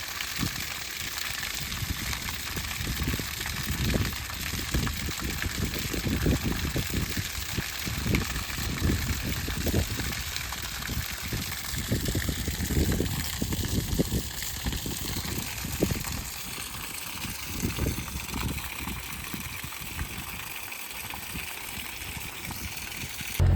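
Water running downhill to fill a newly dug pond beside a trail outdoors, a continuous rushing, gushing wash with a low rumble that holds steady throughout.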